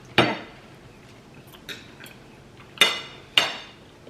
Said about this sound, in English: Let me cut another piece of steak and do this